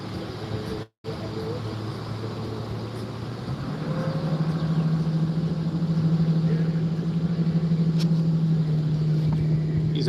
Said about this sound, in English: 21, 22 foot express catfish boat, aluminum, with a big old VMAX 175 Yamaha motor on it.